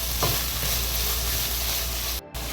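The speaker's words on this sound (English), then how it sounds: "Mix it and let it cook for 5 minutes." Mutton lasagna sauce with oregano leaves and chili sauce sizzles and bubbles in a pan while being mixed, a steady close frying hiss with a faint clink early on and a brief cut near the end.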